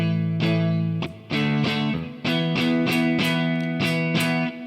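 Distorted electric guitar playing the main riff of a song, strummed chords in a choppy rhythm with short breaks between phrases, close and loud, no talking.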